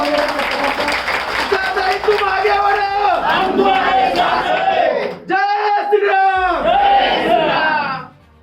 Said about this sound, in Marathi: मग जोरदार टाळ्या होऊन